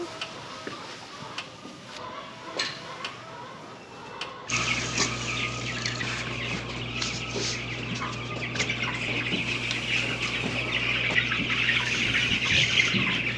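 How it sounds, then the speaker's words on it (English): Turkeys and chickens on a vegetable farm cluck and chatter nearby in a busy outdoor yard, with a low steady hum underneath and scattered bits of talk in the background. "Those are turkeys."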